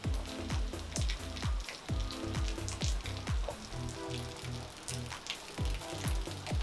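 Steady rain falls outdoors under dark clouds, a dense patter with repeated drips and splashes close by, continuous and fairly soft.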